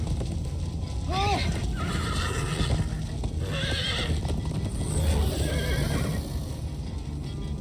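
A horse in the Minecraft: Story Mode video game neighs loudly near the start, with rhythmic hoof clip-clops and game sound effects around it and a brief shout from a character.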